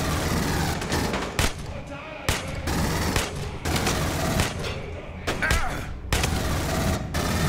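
Rapid bursts of gunfire from the Aliens: Colonial Marines shooter, sharp shots and automatic volleys firing repeatedly throughout, loud and close, with a voice talking faintly underneath.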